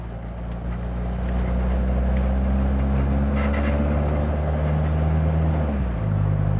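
A Mitsubishi Lancer CK4 engine holds a steady, low, humming drone at about 1500 RPM during a relaxed test drive. The pitch dips briefly near the end, as if shifting gear. No one speaks.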